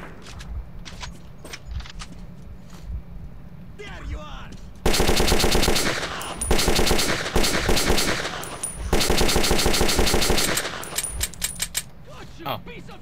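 Automatic gunfire in the video game Metro 2033, scattered shots at first, then two long, loud, rapid bursts with brief pauses between them and a few single shots toward the end.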